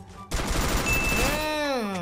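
Video game gunfire in a mobile battle royale match, a sudden loud burst of rapid shots that keeps rattling on, followed by a ringing, sweeping tone near the end.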